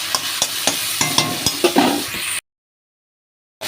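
Water poured into frying white poppy seed paste with potatoes, a close sizzle punctuated by rhythmic spoon scrapes and taps before cutting to silence, then a brief return of sound.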